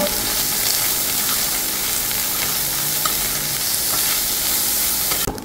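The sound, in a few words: frying dried shrimp with pumpkin in a pan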